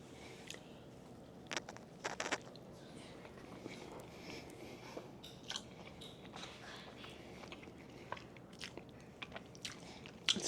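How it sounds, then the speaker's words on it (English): Someone bites into a cinnamon baked treat and chews: soft close crunches and moist chewing sounds over a quiet room hiss, with a few sharper bite clicks scattered along. "Let's taste the cinnamon one."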